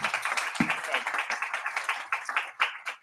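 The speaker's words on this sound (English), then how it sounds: "Round of applause." Applause from a meetup audience at a PHP developers' gathering, a few seconds of steady clapping close by that fades toward the end.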